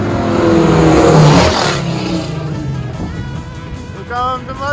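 A Mustang revs hard as it approaches, a loud, rising engine roar that swells and then eases into a steady drone at a street cruise, with crowd noise and shouting underneath.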